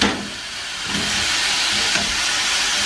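Hot oil sizzling hard as Asian chicken pan-fries, a loud, dense, continuous hiss close by, briefly dipping then swelling again as the pieces are flipped and moved.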